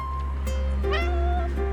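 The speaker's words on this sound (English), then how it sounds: "A cat's meow by his feet catches our attention." A cat meows in the romance game Love and Deepspace, one short plaintive call rising then falling, close and clear over a steady low background hum.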